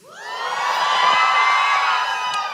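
Girls in a church audience cheer together in a sustained high-pitched shout that swells quickly and holds loudly for about two seconds before fading slightly.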